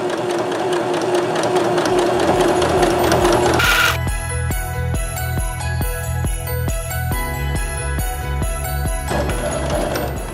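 A sewing machine stitches lining around a scallop curve, first in a smooth whirring run, then in a series of distinct, evenly spaced mechanical clacks as it slows to individual stitches, close and fairly loud.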